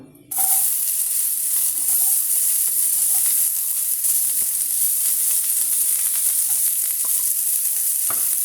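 Chopped onion drops into hot oil in a pan with a sudden loud sizzle that starts almost at once and holds as a steady, close hiss, with a few faint clicks of stirring.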